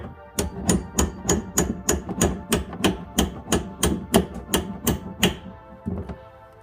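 About fourteen sharp, evenly spaced metallic bangs ring out as a Z26 rear brake pad for a Hellcat or Scat Pack is knocked into place, loud and close, tapering off at the end.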